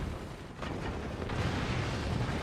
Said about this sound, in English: Those mortars just destroying.